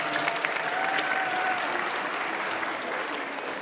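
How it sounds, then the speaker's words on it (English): Sustained applause from a crowd at an afterschool advocacy press event in a state capitol, a steady wash of clapping at moderate distance that tapers slightly toward the end. "Let's give Rep. Feeder another round of applause, please"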